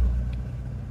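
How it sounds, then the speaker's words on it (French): Steady low engine rumble from an idling 4x4 with its alternator running, a continuous close hum with no voices. "C'est un alternateur qui marche."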